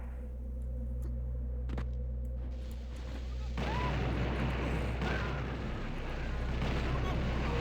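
Explosion in the first-person shooter Blood: a deep low rumbling boom swells midway through, preceded by a couple of sharp cracks and followed by sustained noisy blast rumble.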